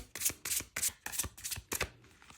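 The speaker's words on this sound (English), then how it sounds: "I'm going to pull 3 cards from the Zombie Tarot, but first we're going to shuffle." A Zombie Tarot card deck being shuffled up close, with about seven quick, crisp riffling bursts in an even rhythm.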